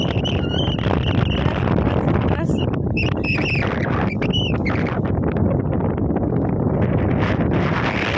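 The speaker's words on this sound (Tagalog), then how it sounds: "Lakas ng hangin eh." Strong wind buffets the microphone by the sea near Monta Bay, a steady loud roar across the whole stretch, with people talking over it.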